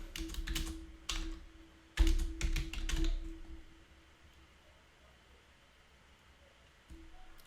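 Typing on a computer keyboard while entering a BASIC program on a 6502 computer, bursts of quick close key clicks that thin out and stop, followed by quiet room hiss and one last tap.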